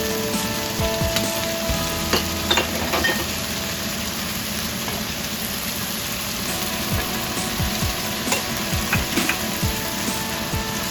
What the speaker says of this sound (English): And after frying it around for 2 minutes, add the beef back into the pan.